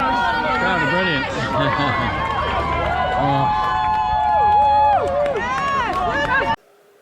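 Roadside crowds at the London Marathon cheer and shout loudly and continuously as runners pass, a dense roar of voices with whistles, heard close up and ending abruptly.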